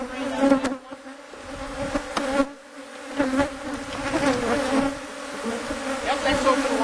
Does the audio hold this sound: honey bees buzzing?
yes